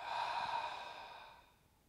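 One deep, slow exhalation during yoga breathing, a soft breathy rush close to the microphone that fades gradually over about two seconds with nothing else heard.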